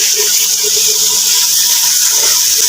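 Water poured into a bowl of mixed ground spices (salt, cumin, turmeric, coriander) for a Punjabi aloo wadiyan curry: a steady, close, hissing rush of liquid with no voices.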